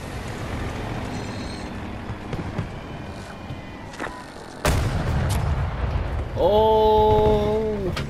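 Game gunfire and explosive blasts rumble through a Battlefield 2042 battlefield, heavy booms recurring over a dense low roar, with a sudden loud impact midway and a whining vehicle engine rising near the end.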